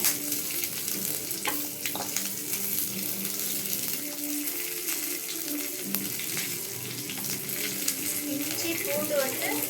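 Crab gravy masala frying with onion, ginger and garlic in a pan, a steady close sizzle with occasional stirring scrapes, continuous throughout, with a voice talking faintly over it at times.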